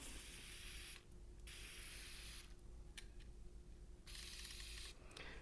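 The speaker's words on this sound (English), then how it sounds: "I'm going to add a little bit of deoxit to the connectors here" DeoxIT contact cleaner hisses from a spray can onto computer connectors during reassembly of a Gateway E-3200 laptop, in three short close bursts separated by quiet pauses.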